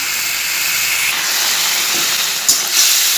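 Banana flower hits a hot pan of fried potatoes and spices (bay leaf, cumin, chili), and a loud, steady sizzling hiss fills the whole stretch close up, with a brief clatter near the end.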